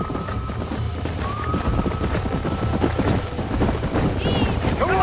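Horses in Red Dead Redemption being rounded up on a farm for breaking, with clip-clop hooves and a brief whinny over steady outdoor ambience and a low rumble, moderately loud throughout.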